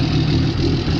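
Tractor engine in a farm simulator game, a steady low rumbling idle drone that holds evenly at close range throughout, with no talk over it.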